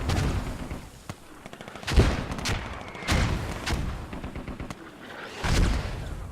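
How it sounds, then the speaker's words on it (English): Mortar rounds pound an area in a tactical shooter match, a series of heavy booming blasts and rumbling impacts spread over several seconds, loud and overlapping with no talk. "Yeah, a lot of mortars just pounding this area."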